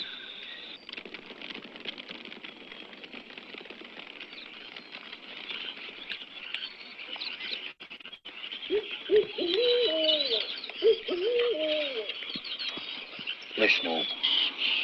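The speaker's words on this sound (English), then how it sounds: "what are they? Night birds, mostly." Night birds calling outdoors after dark, a steady high chorus of chirps and trills with a few louder warbling calls rising nearby midway, some faint insect-like buzzing underneath.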